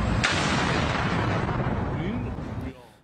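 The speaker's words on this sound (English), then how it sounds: "Loud explosions were heard in Iran's central city of Isfahan" Explosions at a military ammunition factory in Isfahan, Iran: a heavy, rumbling blast with crackling debris-like noise rolls on for a few seconds, loud and distant-sounding, before fading away.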